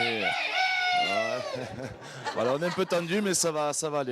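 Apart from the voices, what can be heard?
rooster crowing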